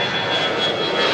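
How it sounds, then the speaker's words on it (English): Airliner jet engines roar at Toronto Pearson airport, a loud, continuous, broadband rumble that stays steady and close throughout with no voices. "Take in the roaring of those engines."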